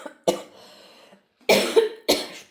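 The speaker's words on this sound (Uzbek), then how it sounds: "Shu payt yo'tal tutadimi?" Three harsh, close coughs from one person in a home kitchen, the second drawn out and raspy, separated by brief quiet gaps.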